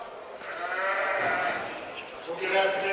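Sheep bleating at a livestock stock show during the sheep and goat judging, a continuous crowd of wavering bleats close by, with people talking over them throughout.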